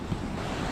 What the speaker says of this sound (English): It's still pretty windy up here